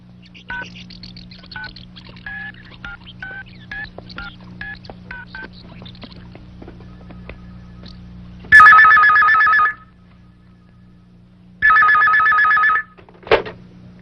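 A telephone being dialed and then ringing: a run of short tone beeps from the dial, followed by two loud, close rings with a pause between them and a brief click at the end.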